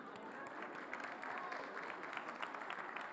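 An audience applauds at a beauty pageant grand finale, a steady wash of clapping from a large crowd, heard fairly faint and distant.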